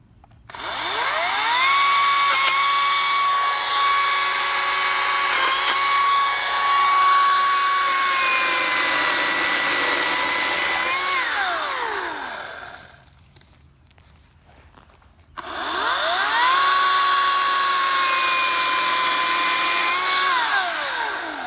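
A Ryobi 40V 14-inch electric chainsaw cuts through wood in two long passes, its high whining motor holding steady and loud, then dropping out briefly before winding up again for a second cut.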